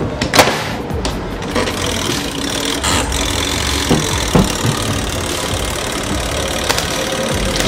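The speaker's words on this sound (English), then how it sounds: "So that's how it's supposed to spin for it to dry the clothes well" A Mika 8kg twin tub semi-automatic washing machine spins clothes dry, giving a steady, loud whirring drone with a rattling mechanical texture throughout and no talk.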